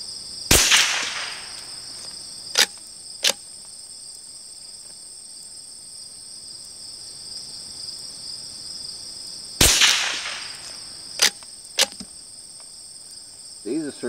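A Browning T-Bolt rifle fires subsonic rounds, two sharp, loud reports about nine seconds apart, each followed by smaller clicks of the bolt, with a steady insect hum in the background and no talking.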